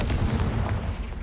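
A short, muffled boom from a Confringo fire spell in Hogwarts Legacy, a single dull blast lasting about a second at moderate volume, with no voices.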